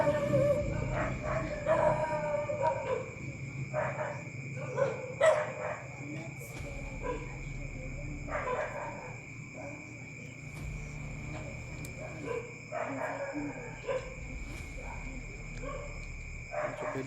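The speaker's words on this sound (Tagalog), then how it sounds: "Ayun, tumatahol yung aso, mga bandido pumasok dito." Several dogs barking at night, repeated sharp barks coming in bursts from mid-distance over a constant chorus of crickets and insects, with an occasional howl.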